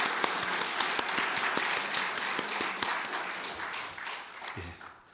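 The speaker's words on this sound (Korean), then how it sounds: "우리 알렉세이 목사와 우리 아이기림 사모에게 여러분 박수를 한번 좀 격려해 주시면 감사하겠습니다" A church congregation claps during a Sunday worship service, dense sustained applause filling the room, a few low voices faintly underneath, then tapering off near the end.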